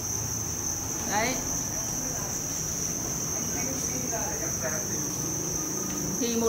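Live crickets chirp continuously on a cricket farm, a steady high trill throughout with someone speaking in Vietnamese over it.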